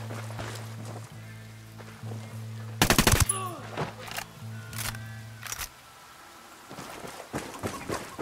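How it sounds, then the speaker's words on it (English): Submachine gun fire in the Ghost Recon Wildlands video game, with one sharp loud burst over a steady low engine hum, followed by a few scattered softer reports and distant shots. "Spotted one with submachine guns."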